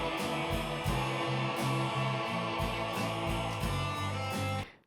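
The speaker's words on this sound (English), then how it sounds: "It's just a pedal that has a high and low orchestra setting." An orchestra setting on a Mel 9 pedal gives a lush, layered sustained sound with rhythmic lower chord stabs beneath it that moves along steadily and then cuts off at the end.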